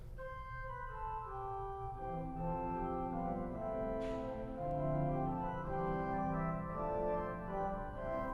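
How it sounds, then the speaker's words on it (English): A 1906 Felgemacher pipe organ plays a solo line on its Nasat 2 2/3 stop, sustained bright, reedy-hollow notes moving in a slow melody over a held lower chord, clear and resonant, with no talking. "There's a Nasat 2 2/3, which makes it a solo voice."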